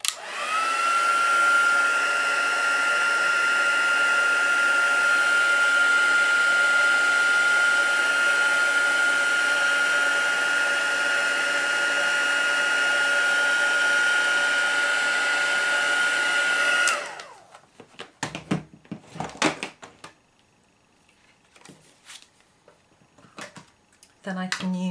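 A heat tool blows steadily and loudly while melting embossing powder on a small papercraft triangle gift box. The whine runs constantly for about seventeen seconds, then cuts off, and a few light handling clatters follow.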